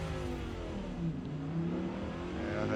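An Audi R8 LMS race car in Forza Motorsport accelerates off the starting line at Daytona Speedway, a steady rising engine drone with a rough, buzzing tone, moderately loud and continuous with no talk.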